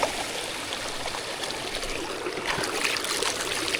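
Water gushing and draining out fast through a widened opening, a steady close rushing flow with no voices.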